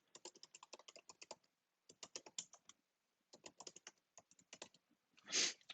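Computer keyboard typing an email address, rapid bursts of crisp keystrokes separated by short pauses, close and clear, ending with a brief soft rustle.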